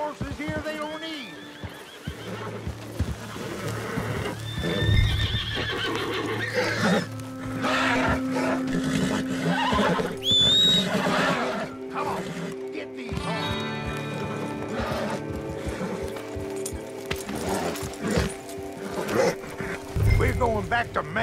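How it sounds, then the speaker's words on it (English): Horses neighing and whinnying with hoofbeats clip-clopping among other Western-frontier sounds, loud whinnies rising over a busy mix of movement, talk and background score. "They got horses here they don't need."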